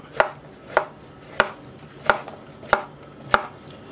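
A kitchen knife slices mushrooms into rounds on a cutting board with six crisp, evenly spaced strokes about every 0.6 seconds, close and clear, with no talking.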